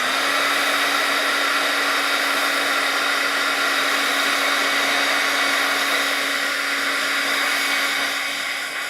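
A hair dryer runs nonstop at close range to dry paint on handmade soccer-themed mail art, a loud, even blowing hum that eases slightly at the end.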